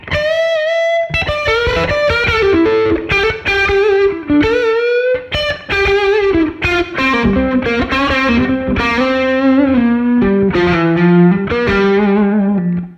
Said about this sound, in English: So this is just the neck pickup with a bit of drive.